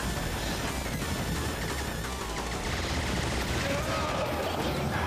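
Dense, continuous gunfire and explosions from the video game Contra Rebirth, a loud unbroken fusillade filling the whole stretch with no talk over it.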